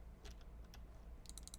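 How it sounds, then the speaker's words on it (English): Keys on a computer keyboard are tapped in two short quiet bursts, a few scattered clicks first and then a quicker run of four or five strokes, close and faint against a low background hum. "This time I'm going to actually type this in"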